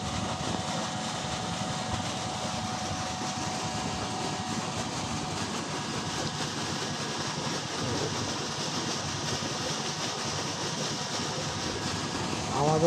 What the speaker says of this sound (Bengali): এই যে আমাদের মোটর ঘর।